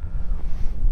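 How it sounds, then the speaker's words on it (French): Strong wind buffets the microphone over an open, dry field during spring barley sowing, a steady low roaring rush with no voices. "il y a un vent pas possible"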